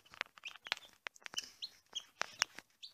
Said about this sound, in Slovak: Toto, dámy a páni, sú všetky kuriatka.